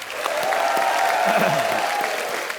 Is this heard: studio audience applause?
yes